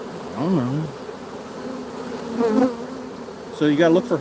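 A dense swarm of honeybees drones steadily close by, with individual bees zipping past in rising and falling pitches, while a person talks briefly over the buzzing.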